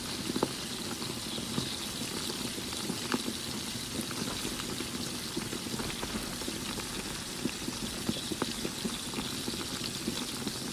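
Marinated chicken wings sizzle in hot cooking oil, a steady, dense crackle and hiss with small pops scattered throughout, close and even in level, with no voices.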